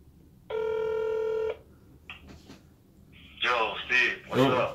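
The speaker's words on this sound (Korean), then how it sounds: "지금 바로 전화 연결을 해보도록 하겠습니다." A telephone rings once in a single steady electronic tone while a call is being placed, followed by brief clicks and then people talking over the line.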